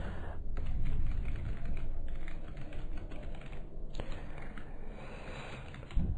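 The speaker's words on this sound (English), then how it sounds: "you can go ahead and just type in, whatever your rules are" Steady, close typing on a computer keyboard, a continuous patter of key presses running throughout with no voices.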